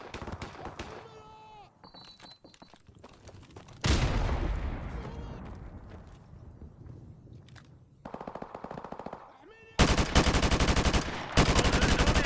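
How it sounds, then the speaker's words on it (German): Automatic gunfire in Call of Duty: Modern Warfare Remastered during a hardcore team deathmatch on the Backlot map. Rapid machine-gun bursts and single shots come in clusters, near and loud, with the heaviest volleys toward the end and game sound effects in between. "Na, da sind Schüsse."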